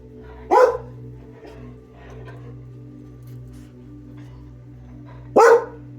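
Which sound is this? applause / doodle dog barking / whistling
doodle dog barking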